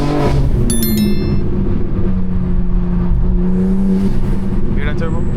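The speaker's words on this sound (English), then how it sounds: "Hear that turbo?" A BMW M4 Competition turbocharged engine accelerating hard at night, a loud steady close drone with rising whine and whistle, a short high chirp near the start and faint wind noise throughout.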